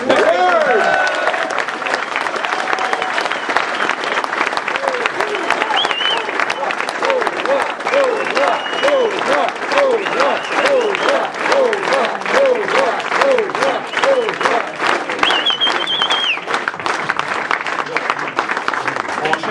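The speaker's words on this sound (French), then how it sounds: "il mérite aujourd'hui de fiers applaudissements de notre part." Sustained applause from a large crowd at a Quebec nationalist rally (RRQ, 2009), dense steady clapping that fills the whole stretch with a few cheers and voices mixed in.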